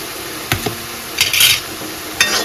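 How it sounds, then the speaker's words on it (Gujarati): Fresh green corn with salt, turmeric, red chilli, garam masala and coriander-cumin powder stirred and roasting in a pan: a faint steady sizzle broken by a few short scraping bursts of the spoon against the pan. "અને એને મિક્સ કરીએ અને બરાબર થોડી વાર માટે શેકાવા દઈએ।"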